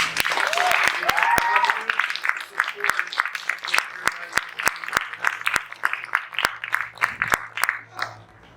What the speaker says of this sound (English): Let's all give them a round of applause at this time.